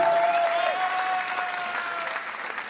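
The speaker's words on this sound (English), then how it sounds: "let's keep clapping because the emotions are really important here" Sustained audience applause at a European culinary competition final, dense and steady clapping from a large crowd throughout, with faint voices mixed in.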